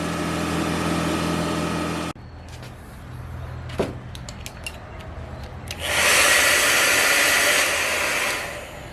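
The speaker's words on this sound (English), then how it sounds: "I went and got a hair dryer because I can't find my heat gun for some reason" A hair dryer, used to heat a steering wheel wrap, blows with a steady whirring roar, cuts off for a few seconds of quiet handling noises, then starts again close by.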